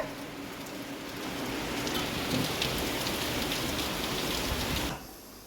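Steady rain falls outdoors with a dense, even hiss that swells slightly and then cuts off abruptly near the end, no voices present.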